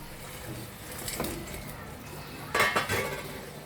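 Fried fish pieces go into a boiling doi katla (yogurt carp) curry, with a soft metallic clink of a utensil against the pot and a brief burst of wet splashing and bubbling toward the end, close and moderately quiet.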